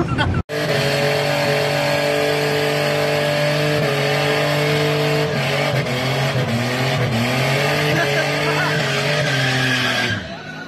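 A Kawasaki ZX-14R motorcycle holds a loud, sustained burnout at a drag strip, engine droning steadily while the rear tire squeals and the pitch wavers near the end.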